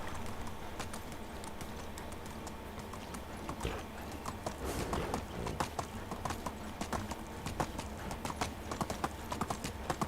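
Donkey hooves clip-clop steadily in the Medieval Dynasty video game, a continuous run of quick, close clopping steps over a soft ambient background with no talk.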